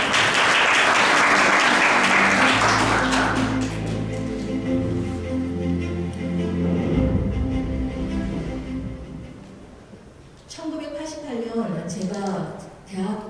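A memorial ceremony audience applauds loudly for a few seconds as a speaker is invited on stage. The clapping fades under sustained music, and a voice begins speaking near the end.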